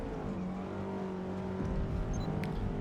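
A Forza Motorsport race car engine drones loudly at high revs, then the note breaks abruptly as the car drops down a gear instead of up, and the engine roars on at a new pitch.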